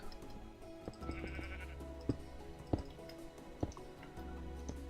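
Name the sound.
sheep bleating in video game Minecraft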